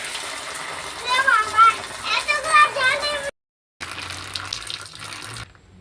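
A water tap runs steadily while a child washes their feet, with a voice chattering over the flow; the water cuts out briefly, then resumes before stopping near the end.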